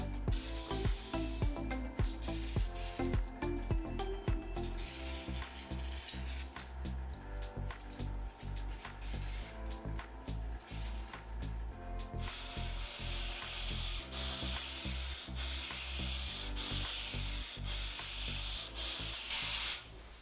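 Hand sanding an antique Walker-Turner 10-inch table saw's cast tabletop with 400 grit sandpaper, a continuous close rasping rub with rhythmic back-and-forth strokes and small clicks.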